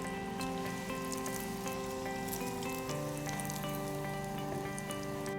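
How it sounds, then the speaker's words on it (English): Croquettes frying in a pan of oil at about 180 degrees Celsius, a soft steady sizzle and crackle with light popping, faint and close, alongside a constant background hum. "Place the croquettes into the pan. We want the oil at about 180 degrees Celsius."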